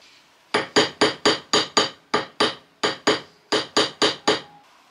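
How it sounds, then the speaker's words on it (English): A texturing hammer strikes silver jewellery to leave a tree-bark finish, giving about fifteen loud, sharp metallic taps in quick bursts with brief pauses between groups. "And now I'm going to use this hammer, which makes a texture that looks like tree bark."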